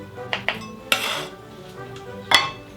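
A knife chops blue potatoes into bite-size pieces on a cutting board, giving four sharp, close knocks spaced irregularly over a few seconds, with faint kitchen clatter between them.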